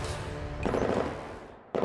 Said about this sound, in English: the crisp sounds of gunshots erupts from behind me